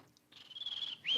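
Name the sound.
person imitating a bird call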